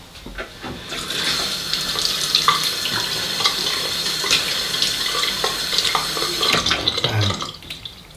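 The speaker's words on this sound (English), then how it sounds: "Let me just rinse off." Straight razor being rinsed under a running tap, a steady splashing rush of water into a sink that fills the clip from about one second to the end, close and fairly loud with no talking.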